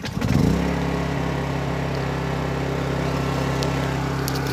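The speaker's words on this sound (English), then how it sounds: "Let's go try start the generator if we turn off the monitor." A generator engine cranks over briefly and catches, then settles into a steady, loud running drone that holds for several seconds with no voices.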